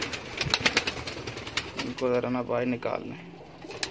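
Pigeons coo and flutter as they are taken from their coop, with a clear cooing call midway and scattered wing flaps and handling noises, while someone talks over them.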